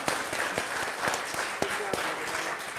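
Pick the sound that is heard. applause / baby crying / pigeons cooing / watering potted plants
applause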